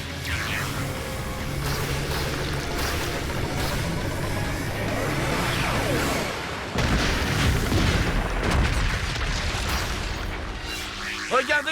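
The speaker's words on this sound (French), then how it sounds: "Il va exploser" An animated explosion in a cartoon fight, with booming blasts and crackling bursts layered over rumbling effects and a few voices, loud and dense throughout with a brief drop before a fresh surge.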